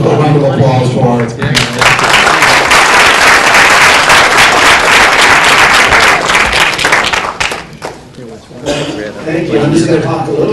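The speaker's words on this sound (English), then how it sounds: "Can we give a round of applause for our..." An audience breaks into loud, sustained applause at an indoor talk on trade, resources and environment. The clapping swells and fades, with a brief lull near the end, and voices are heard around it.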